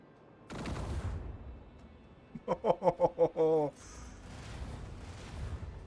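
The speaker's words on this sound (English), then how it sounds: "Let the macro cannons sing their deadly litany." Macro cannons firing in the video game Rogue Trader: a quick salvo of five sharp booming shots followed by a longer blast, set against quiet ambient noise.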